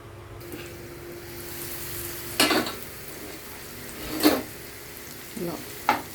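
Spices and coconut powder fry in a pan with a soft continuous sizzle, broken by several scraping stirs and a light clink or two of a spoon.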